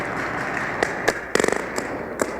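Paintball markers fire during a game, including a fast volley of five or six cracks in a row. Single scattered pops come before and after the burst, all heard over a constant wash of outdoor noise.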